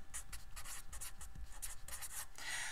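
A pen or marker scratches steadily across paper as a calculus function is written out, a close, continuous run of short strokes with no voice.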